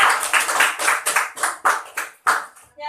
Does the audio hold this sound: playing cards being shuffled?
no